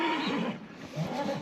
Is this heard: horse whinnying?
yes